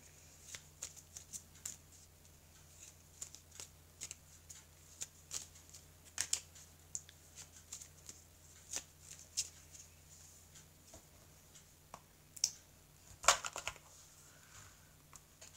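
A deck of oracle cards is shuffled and a card drawn, with soft scattered flicks and taps throughout, faint and close over a low steady hum, with no talking.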